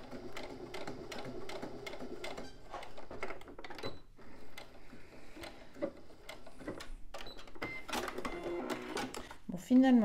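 A sewing machine topstitches folded-over coated fabric on a small zip pouch in quick, rhythmic bursts with brief pauses, fairly faint and close, while someone talks over it.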